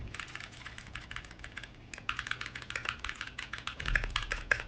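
Rapid, close typing on a computer keyboard, a dense run of crisp key clicks with a few louder thumps toward the end, over a faint low hum; no talking.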